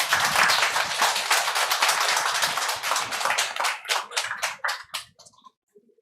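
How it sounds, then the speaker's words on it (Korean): Dense applause from an audience after a band's performance at a memorial service, loud and steady at first, then thinning into scattered individual claps that fade out over the last second. "힘있는 박수 부탁드리겠습니다."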